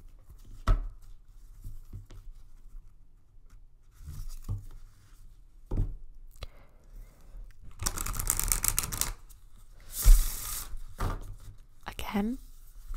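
A new deck of matte cardstock Animal Guides tarot cards is shuffled and handled. Sharp riffling bursts and snaps come near the microphone, mixed with scattered taps and light handling noise over about thirteen seconds.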